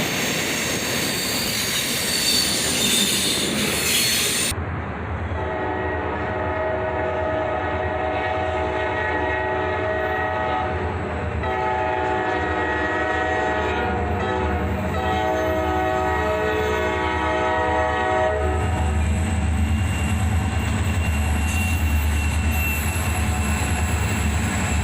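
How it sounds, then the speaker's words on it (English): A big Norfolk Southern freight lash-up led with a GP33 Eco and its slug passes close by, sounding a loud multi-tone horn over heavy rolling rumble, with squealing wheels and a deepening roar as the cars go by. "we catch this big Norfolk Southern lash-up with a GP33 Eco"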